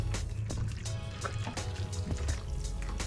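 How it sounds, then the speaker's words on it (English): Thick smoked jalapeno queso with Rotel juices and jalapenos is stirred in a pan on a Char-Griller 980 smoker, giving soft, wet squelching and slopping sounds against a steady low background rumble. "Just go ahead and stir it."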